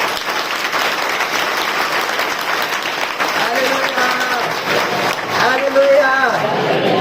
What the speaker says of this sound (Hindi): जोरदार ताली बजाओ यीशु को